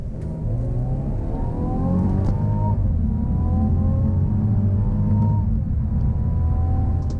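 A 2019 Mercedes E350 with a 2.0L engine accelerates hard from 30 to 70, its engine note climbing steadily through several gear changes, loud and continuous from inside the cabin with no talking.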